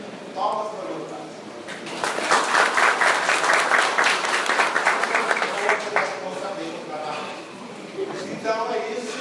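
Applause at a talk on persistence, swelling after a brief pause into a dense, steady wash of clapping for several seconds, then thinning out, with voices speaking before and faintly around it.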